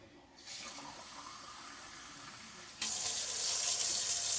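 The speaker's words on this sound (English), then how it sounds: "I'm going to be filling them with water and putting them in here" A tap turns on and water runs steadily into glass jars, then the flow grows louder and more forceful partway through.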